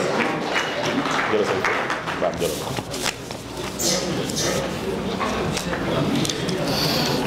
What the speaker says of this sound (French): M. Sarr, vos applaudissements, s'il vous plaît, M. Sarr.